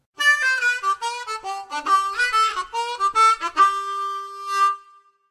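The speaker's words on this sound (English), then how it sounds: "Here's a harmonica." A harmonica plays a quick, bright melody of reedy, wavering notes in short phrases, ending on a held tone, with no voices.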